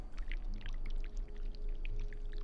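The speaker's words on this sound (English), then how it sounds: "we need to pour the wax from the pot." Wax poured from a pot in This Bed We Made, a soft, steady liquid trickle with faint splashy flecks, low and continuous with no talking.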